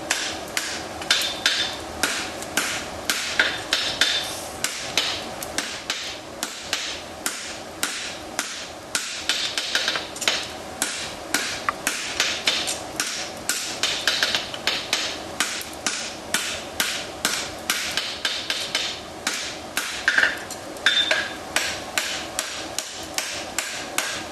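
Rapid, ringing hammer blows strike hot metal on an anvil while forging a wedge, in a steady rhythm, continuing for a long stretch with brief pauses between bursts.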